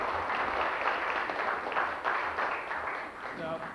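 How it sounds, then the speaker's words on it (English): An audience at a historical society meeting applauds in a soft, distant round of clapping. It sounds muffled and steady and fades slightly toward the end. "I think we owe Ken another round of applause."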